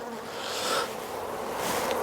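A dense, steady buzz of many honey bees at an open hive fills the air, a continuous droning hum swelling slightly, close by with no voices.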